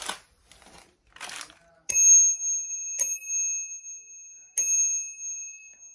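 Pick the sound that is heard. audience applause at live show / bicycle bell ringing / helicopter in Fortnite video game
bicycle bell ringing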